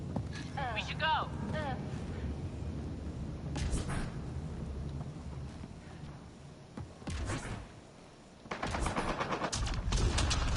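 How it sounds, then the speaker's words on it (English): Bursts of enemy gunfire in Mass Effect Andromeda, scattered rapid shots and volleys near and mid-distance, mixed with voices talking over the firefight. "Enemy fire!"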